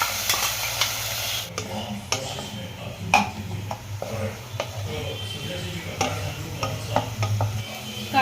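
Garlic paste goes into frying onions in a pan, with a steady sizzle and repeated scraping, clinking stirring strokes, close and fairly loud.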